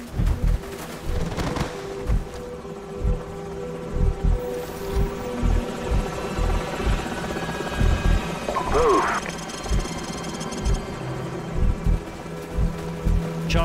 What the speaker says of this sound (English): Enemy helicopters.